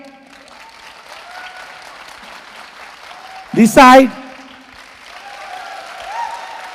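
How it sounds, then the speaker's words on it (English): A youth festival crowd at Pyramid Valley applauds in a large hall, a steady wash of clapping beneath someone speaking into a microphone, with a sharp loud vocal burst from the audience midway. "A big round of applause from this side."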